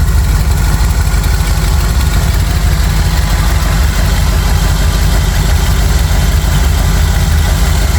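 A Jeep engine idling steadily right after a cold start, with an aftermarket Edelbrock fuel pressure regulator and electric fans, a loud, close, continuous low rumble with no voices over it.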